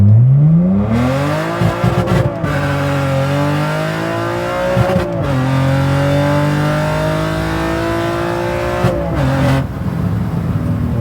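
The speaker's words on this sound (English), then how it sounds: "So that was a very recent launch of the car." A BMW with an N52 straight-six accelerates hard on the road, the engine note climbing through several gears with brief dips at each shift, loud and close with no talking.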